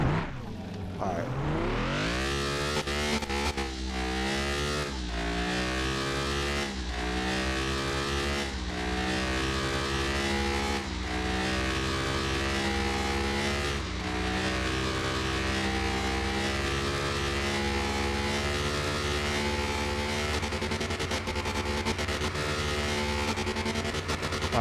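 A car engine in Car Mechanic Simulator 2021 revs hard and repeatedly climbs to redline through the gears, loud and continuous, its pitch sweeping upward with each pull and dropping briefly at every shift, with no talking.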